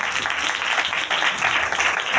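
Church congregation applauding during a New Year service, a dense, steady wash of clapping from many people throughout, fairly loud and close.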